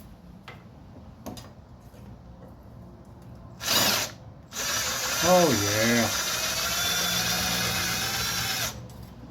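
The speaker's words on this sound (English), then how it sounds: "let's grab the impact to make this a little bit faster process" Impact wrench spinning off the fasteners on a fuel gauge sender, a loud sustained whir of roughly four seconds after a short burst, with a brief spoken exclamation before it.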